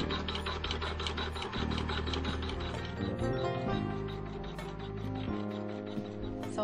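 A sewing machine runs a continuous satin stitch around a yellow area of a quilt block, its needle hammering in a steady, rapid mechanical rhythm, loud and close throughout with no talk.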